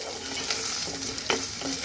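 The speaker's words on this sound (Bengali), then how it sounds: "এর মধ্যে দিয়ে দেব হচ্ছে খানিকটা রসুন, খুব সুন্দর করে একটু ভেজে নেব" Garlic sizzles in hot oil in a pan while being stirred, a steady crackling fry broken by a few short scraping strokes of the spoon, with no voices.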